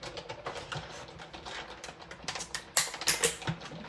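A greeting card run through a manual die-cutting machine for a holiday card, a series of close clicking, crunching mechanical sounds with uneven rhythm and a louder stretch near the end.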